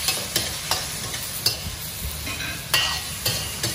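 Sauce is stirred into a hot pan for noodles, a loud steady sizzle broken by regular scraping strokes of the utensil roughly every half second to second.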